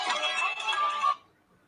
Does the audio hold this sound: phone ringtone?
yes